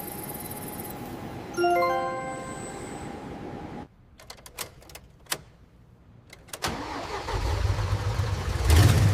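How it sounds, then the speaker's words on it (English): A car engine at a BMW factory turns over and fires up after a burst of electronic beeping, then settles into a loud, close idle with a brief rev near the end. "Come on, fire up!"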